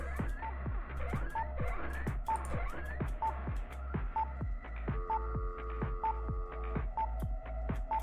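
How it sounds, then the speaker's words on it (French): A video game phone rings in a regular repeating pattern of bright electronic tones, with a steady low hum underneath and a shifted ring pattern in the second half, fairly quiet and alone. "Réponds au téléphone, t'as un coup de téléphone."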